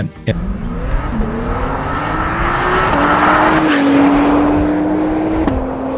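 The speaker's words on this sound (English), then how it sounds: "It's the audio signature of an engine that was built for performance first, drama second." A Honda NSX engine revs hard and climbs in pitch as VTEC engages, its tone sharpening into a loud, high-revving wail with brief shifts, heard up close.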